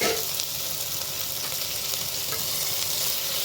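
Small cut okra pieces fry in hot oil for a Telugu bendakaya pulusu curry, giving a steady, close, even sizzle that holds throughout with no talking.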